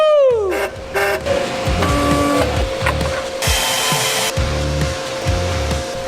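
A forge blower fan whines up to speed and runs steadily nearby, while clanking and knocking shop sounds and a brief hiss break in over its drone; no speech.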